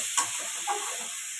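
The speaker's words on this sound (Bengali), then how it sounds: "হলুদ দিয়ে দেবো, লঙ্কার গুঁড়ো দিয়ে দিলাম। এটা আর একটু ভালো করে কষাবো।" Fish curry with green banana and potato being stir-fried in a pan after turmeric and chilli powder go in: a short, close, steady sizzle with faint stirring bumps.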